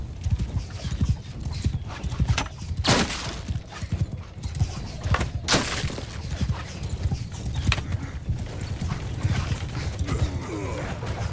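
Horses gallop in a steady clip-clop of hooves across a battlefield in the Mount and Blade II: Bannerlord game with the Old Realms mod, with creaks and mechanical clatter layered over a continuous din of combat.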